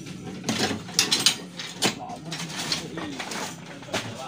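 A pigeon or dove coos in soft repeated low calls, close and fairly clear, mixed with scattered clacks and bumps and a person's voice nearby.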